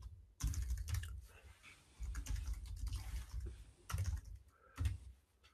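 Quiet tapping on a computer keyboard comes in short clusters of rapid keystrokes, separated by brief pauses, in an otherwise hushed room.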